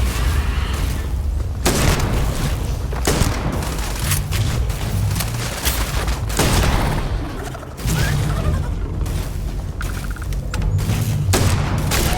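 Heavy gunfire and booming blasts in a Starfield firefight, loud and nearly continuous with overlapping shots and thumps over about twelve seconds.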